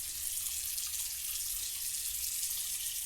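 Warm water runs from a tap in a steady hiss while a safety razor is rinsed. The flow is constant and close, with no voices.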